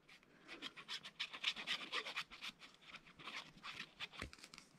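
A glued photo being rubbed smooth by hand onto a wooden cube, with quiet, steady rhythmic scraping strokes, close and faint, and no talking.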